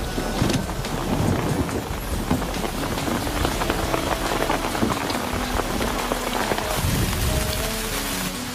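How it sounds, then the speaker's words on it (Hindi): Steady heavy rain pattering on a surface nearby, a constant dense hiss with light wind noise and no speech. "यहाँ पर बारिश हो रही है"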